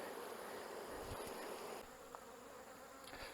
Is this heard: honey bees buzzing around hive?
yes